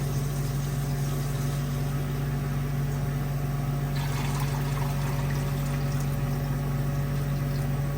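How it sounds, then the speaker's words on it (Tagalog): Water poured steadily into a cooking pot for salmon sinigang, a continuous pouring wash over a constant low hum in a home kitchen, with no talk. "Maglagay na tayo ng tubig"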